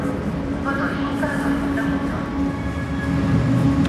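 A train arrives at Arad railway station with a steady, loud rumble and rail noise that continues throughout, while people talk faintly in the background.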